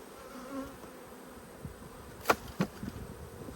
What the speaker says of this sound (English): Good amount of bees up the top here.